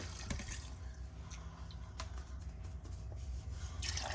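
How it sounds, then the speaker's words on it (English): Water is poured into a cooking container while preparing a Sunday dinner of lamb chops and turkey hocks with beans, a quiet, continuous trickle and splash with faint drips and no talking. "go ahead and pour this water in. I'm gonna fill this container up"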